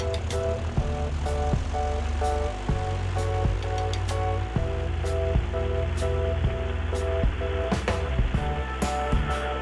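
A Mooney M20J 201 piston engine holds a steady propeller drone during its pre-takeoff run-up, heard loud and close from inside the cockpit, with faint clicks from switches.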